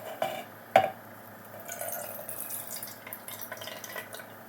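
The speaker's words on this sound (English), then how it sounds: "Now I'm going to drain some of the sardine water out." Water drains from an opened can of sardines in short splashes and trickles, with a sharp metallic tap near the start and then quieter irregular dribbling up close, with no voices.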